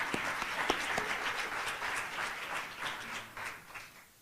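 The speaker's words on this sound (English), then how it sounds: "I'd like to really pause at this point for us to give them a round of applause" Faint, distant applause for educators at a youth entrepreneurship gala awards event, with scattered individual claps standing out early before the sound thins and tapers off.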